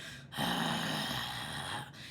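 A short, rough, breathy growl from the false vocal cords, a gritty rasp lasting under two seconds with no singing, a human voice making the sound.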